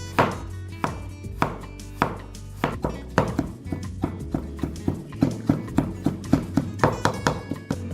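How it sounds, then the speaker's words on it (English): Fresh ginger being minced with a knife on a cutting board, a steady run of close, sharp chopping taps that speeds into a quick regular rhythm, with no voices. "I have 6 grams of ginger that I'm going to mince."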